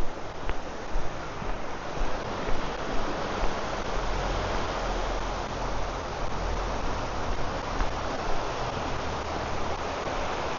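The swollen Asami River in Beppu, Japan rushes after a storm, a dense, steady roar of flowing water with wind buffeting the microphone and no talking.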